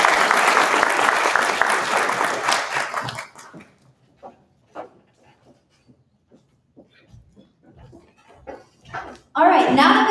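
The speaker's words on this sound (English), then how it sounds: "A big round of applause for Chris." A student demo day audience at a university entrepreneurs club event gives a loud burst of applause for a judge that fades out after a few seconds, followed by scattered quiet sounds and a short loud burst near the end.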